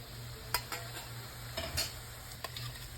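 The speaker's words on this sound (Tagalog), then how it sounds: "Sautein natin ang garlic sa 1/2 cup oil." Garlic and grated ginger sautéing in half a cup of oil, a soft steady sizzle with a few brief stirring scrapes of a utensil in the pan.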